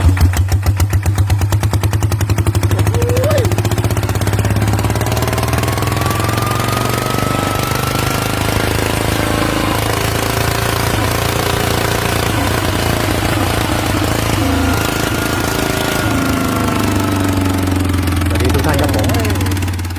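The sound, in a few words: Kubota ET95 engine of a walking tractor running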